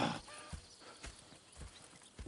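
Horses in the video game Red Dead Redemption 2 clip-clop at a slow walking pace, their soft hoofbeats landing in a steady rhythm at low volume.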